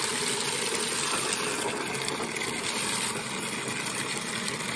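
Water gushes steadily from a frost-free tap on a snowy farm in winter, a constant close rushing hiss with a low mechanical hum beneath and no talking.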